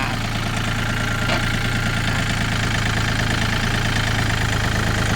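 A Yanmar 35 horsepower tractor engine running steadily at a loud, close idle, with a continuous low rumble and an even throb and no pauses.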